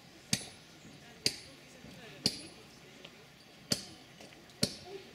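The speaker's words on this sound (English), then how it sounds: "apart from this fellow banging away behind me with a hammer" A hammer bangs on something behind a monastery viewpoint in Gangtok, five sharp, ringing metallic strikes spaced about a second apart, fairly distinct over a quiet outdoor background.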